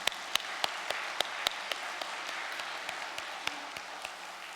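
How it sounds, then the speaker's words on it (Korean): Applause from a congregation at a Korean religious lecture, moderately quiet and steady with scattered sharper individual claps standing out over the wash of hands. "큰 감사의 박수를 함께 올려드리면 좋겠습니다"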